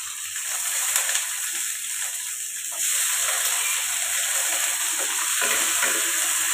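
Carrots and onions are stirred as they fry lightly in a pan, giving a continuous loud sizzle and hiss with scraping stir sounds that grows a little louder partway through, with no talking.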